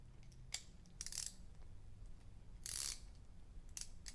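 A low-profile ratchet, its anvil sheared off in a torque test, clicks in short close bursts of crisp pawl ticks, several quick clusters separated by brief pauses.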